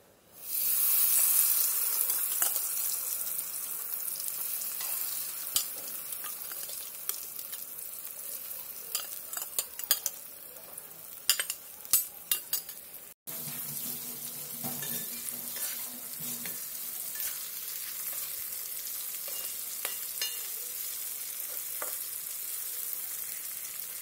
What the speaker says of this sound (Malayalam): ഇനി നമുക്ക് നേരത്തെ തയ്യാറാക്കിയ പച്ചക്കായ മിക്സ് ചെയ്തത് ഒന്ന് വറുത്തെടുക്കാം.